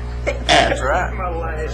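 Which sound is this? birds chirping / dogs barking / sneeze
sneeze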